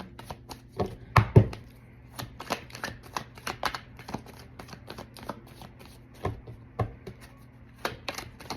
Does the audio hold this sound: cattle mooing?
no